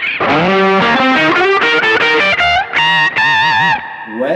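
Electric guitar notes warble and pulse through a sine-wave modulation effect, the chords wavering in a smooth rolling swell before fading out.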